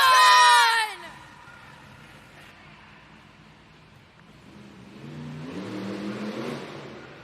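The JCB Megatron monster truck's engine rises into a mid-pitched rev at a Monster Jam arena event in Cincinnati, building after a loud crowd burst fades to a quiet lull.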